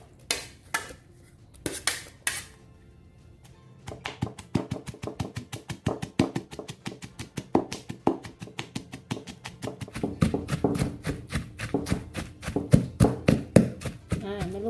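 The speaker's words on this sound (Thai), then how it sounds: "ต่อไปก็นำพริกมาโขลกให้ละเอียดเลยนะคะ" Fresh chilies pounded by hand in a mortar with a pestle for a fresh-chili fermented fish dip, making a steady run of sharp, close knocks that speed up into rapid, loud strikes, with a few scattered taps before.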